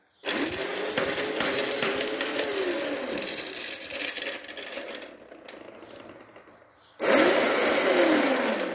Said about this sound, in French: C'est juste la bague en fer que j'ai fait au flywheel, en fait, des fois qui frotte.